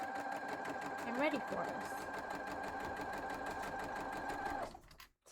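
A sewing machine stitches the border of a quilt block with a fast, close, rhythmic whirring hum that cuts off near the end, with a brief spoken remark over it.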